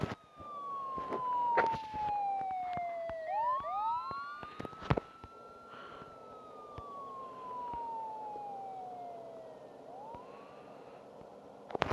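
A police siren wails and sweeps up and down while chasing a fire truck in the driving game Petrolhead, with tones gliding through long swoops, steady and fairly loud, with a few sharp knocks.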